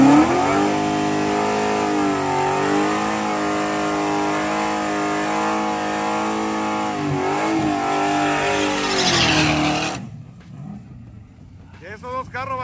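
Drag racing cars at a high-horsepower event in Mazatlán, Sinaloa roar as they accelerate hard, a loud sustained engine scream with rising and falling harmonics that cuts off abruptly, leaving faint crowd and background noise.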